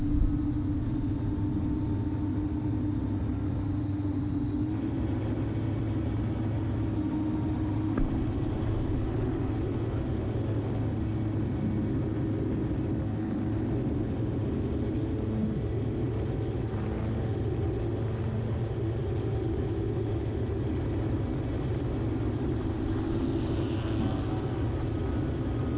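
Steady droning engine of a light propeller plane flying in winter over Eklutna Lake, loud and continuous throughout, with a low rumbling hum and no voices.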